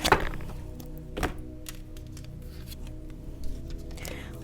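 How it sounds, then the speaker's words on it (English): A deck of tarot cards being shuffled during a reading: soft papery riffles and scattered taps and thunks, fairly quiet and close, with a couple of sharper knocks as the cards are squared. "Give me one more shuffle."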